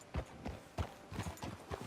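Horse hooves clip-clop in Red Dead Redemption 2, a steady walking rhythm of about six soft, close thuds on a town street, with no voices over them.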